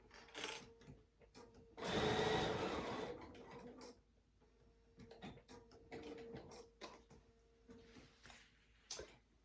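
A sewing machine back tacks the seam of a fabric project bag, quiet stop-start stitching bursts with one longer, louder run of rapid needle clatter early on.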